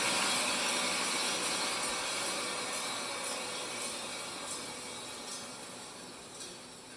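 A vertical band saw with an auto-deploying blade guard winds down after its motor is switched off, a steady broadband whir and hiss slowly fading as the blade runs down, with no voices.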